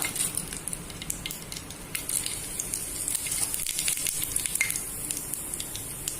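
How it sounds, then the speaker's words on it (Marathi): Curry leaves, a bay leaf and cumin seeds crackle in hot oil, a lively sizzle with sharp popping spatters over a constant frying hiss. "तेल तापलेलं आहे आपण आता चार पाच कडीपत्ता टाकतोय एक तेजपान छोटा चमचा जिरं"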